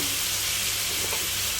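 Tomatoes frying over medium heat in a pan with caramelized onion and pork give a steady, close sizzle that hisses evenly without pause, no voices over it.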